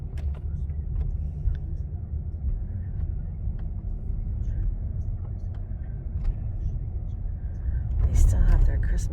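A car drives slowly past an old family house in a snowy winter neighborhood, with a steady low engine and road rumble throughout and people talking over it inside the vehicle.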